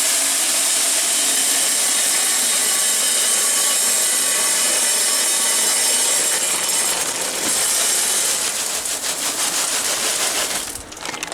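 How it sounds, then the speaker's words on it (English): A Weber Searwood pellet grill's auger feeding lumberjack oak pellets: a loud, continuous grinding rasp that runs steadily and dips briefly near the end. "Good time to check the auger, see if it's turning."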